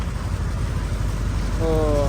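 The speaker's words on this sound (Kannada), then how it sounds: "ಏನು ಅಂದರೆ ಫುಲ್ಲು ಮಳೆ ಬಂದ್ಬಿಡ್ತು." Heavy rain pours steadily during the Karaga festival at a temple in Doddaballapura, a dense continuous hiss filling the whole stretch, with a brief tonal sound rising over it near the end.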